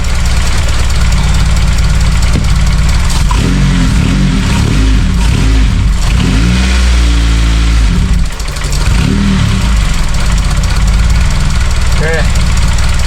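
An Acura RSX engine turns over and settles into a steady idle, a loud low rumble running the whole time with some revving, while voices talk nearby.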